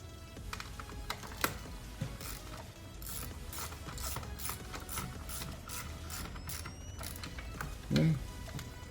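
Ratchet tightening bolts on the purge valve of a 2020-2024 Ford Escape ST-Line 1.5L, faint clicking and mechanical ticks in irregular bursts, with occasional knocks and rattles.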